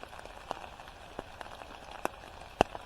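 Rain falling outdoors on the North Yorkshire Moors near Kirkdale Caves, heard as a soft steady patter with scattered sharper drip ticks, faint and close, with no talking.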